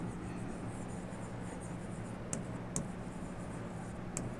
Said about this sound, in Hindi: जैसे हम लिखते हैं